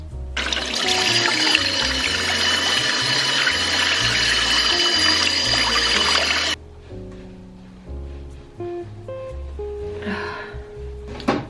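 Tap water runs hard into a sink for a face wash to rinse off cleanser, a loud rushing stream for about six seconds. Then comes softer splashing and dripping as water is scooped onto the face.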